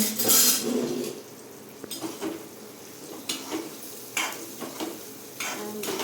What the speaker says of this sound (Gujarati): ચમચાથી હલાવતોય હાલે